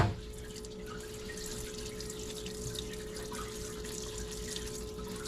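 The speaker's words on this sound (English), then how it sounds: "come over here to the parts wash tank" Running water and splashing in a parts wash tank as engine parts for a Ford FE 445 are cleaned, a steady continuous wash with a low hum beneath it.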